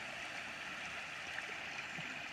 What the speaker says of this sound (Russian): это угольный. Угольный ручей.